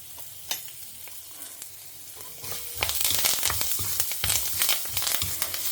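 Dal, asafoetida, green chili and curry leaves crackle and spit in hot oil, a quiet sizzle at first that grows louder and denser with sharp popping bursts partway through.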